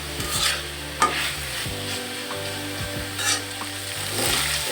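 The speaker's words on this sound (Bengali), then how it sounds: "আপনারা দেখতে পাচ্ছেন আমি চিকেনগুলোকে ভেজে নিচ্ছি" Chicken breast pieces fry in a pan, with a steady close sizzle and occasional scraping stirs, no voices.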